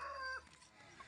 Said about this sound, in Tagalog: Ito mo yung manok namin gitawag ng Arabia. Arabia chicken.